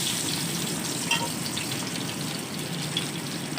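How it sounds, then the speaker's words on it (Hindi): Onions frying in a pan for an aloo matar pulao, a steady, even sizzle that stays constant and close throughout with no talking. "हल्का सा फ्राई कर लेंगे।"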